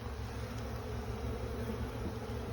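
Honeybees buzz steadily around a hive frame during a summer hive inspection, a dense, continuous close drone that stays loud and even throughout with no talking.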